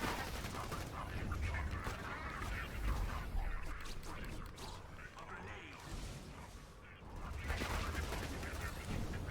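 Rapid, dense bursts of gunfire from the Pearlescent Stalker in Borderlands 2 with its bouncing bullets, a loud continuous rattle of shots with a brief lull midway, then more firing.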